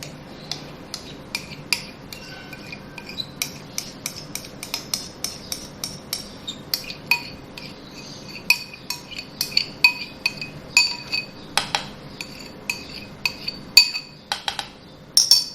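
A spoon clinks against a bowl while mango pulp is stirred into chilled firni, giving light repeated taps in a loose rhythm. The taps grow busier and a little louder toward the end, and no one speaks.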